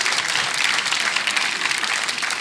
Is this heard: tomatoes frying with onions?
no